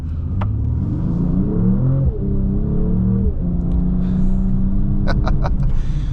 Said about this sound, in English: Sport instantly kicks on our engine right here, so you can hear that come to life real quick.